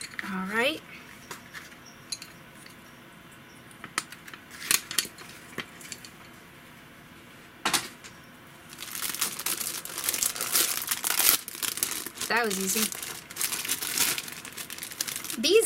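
Plastic packaging of a fresh pack of art supplies crinkles and rustles in bursts, loudest in the second half, with a person speaking briefly over it.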